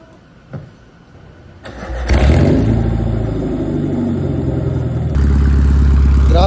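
A Honda Civic with side-exit headers cranks over briefly, then catches and fires into a loud, raspy idle that holds steady and swells a little louder toward the end, close by.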